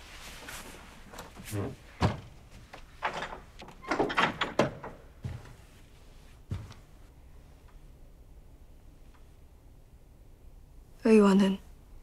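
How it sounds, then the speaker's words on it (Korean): A traditional sliding door in a Joseon-era palace room slides open near the end, a short close rasp of wood in its track after a stretch of quiet speech and soft movement. "잠시 방문을 열어도 되겠느냐?"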